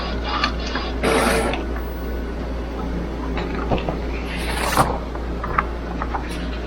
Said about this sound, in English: Send that to the printer.